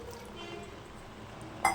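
Water is poured into a pan while cooking Andhra-style gongura pachadi, a soft, steady liquid trickle that ends in a sharp metallic clink.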